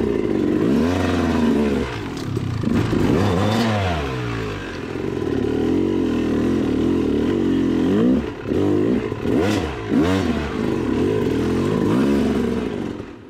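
A Husqvarna dirt bike engine runs and revs while riding through bush, a loud close rasping roar rising and falling with throttle, alone without talk.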